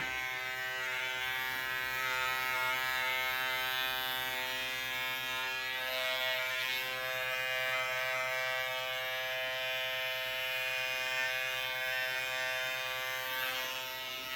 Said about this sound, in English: You don't have to press too hard and try to do too much when you're shaving your head.